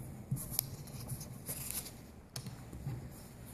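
Scissors trim fabric for a quilted triangular panel in a few quick close snips, soft and crisp against a quiet background, with no speech.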